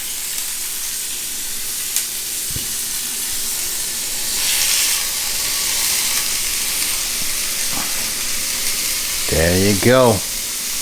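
A ribeye steak laid into a hot pan gives off a loud, steady sizzle and hiss that swells midway, with a few light clicks and someone speaking briefly near the end.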